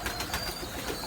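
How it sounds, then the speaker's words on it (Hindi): Pigeons at a breeder's loft make a soft, continuous cooing against a noisy, crowded background, with several brief overlapping calls heard up close. "काफ़ी तादाद है जी कबूतरों की"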